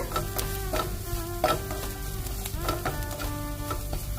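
Chopped garlic sautés in a pan with a steady sizzle, and a utensil scrapes and stirs at intervals. The sound is close and continuous, with no talking.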